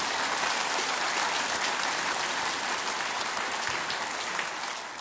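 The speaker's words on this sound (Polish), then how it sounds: "Brawa, brawa do Mirka Jędrowskiego" Sustained audience applause at a benefit concert, dense and steady throughout, fading slightly toward the end with no voices above it.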